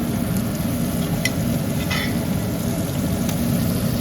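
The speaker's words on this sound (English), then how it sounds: "you want to baste the steak" Butter sizzles steadily in a pan as a steak is basted, a constant crackling hiss with faint spoon clinks, close up and without talk.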